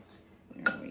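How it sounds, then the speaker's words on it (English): A utensil scrapes and clinks against a bowl while stirring a granola mixture, quiet shuffling followed by a single bright metallic clink. "Make sure you get it stirred real well."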